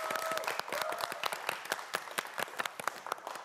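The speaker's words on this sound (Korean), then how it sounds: "큰 박수 부탁드립니다" Studio audience applause on a children's quiz show, many hands clapping in sharp, distinct claps that gradually thin out, with a brief tone audible at the start.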